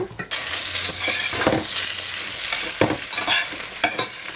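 Vegetables for a baked potato, zucchini and eggplant casserole sizzle steadily in a frying pan while being stirred, with a continuous hiss broken by scraping strokes of the spoon, close and clear, with no talking.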